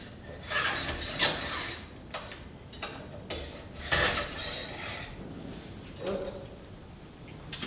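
A file works the cutting teeth of a chainsaw chain in short, repeated rasping strokes with slight metallic clinks, close and fairly loud, with brief gaps between strokes and a voice talking at times.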